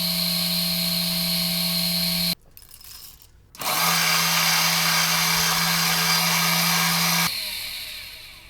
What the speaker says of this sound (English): It is by far the noisiest grinder between those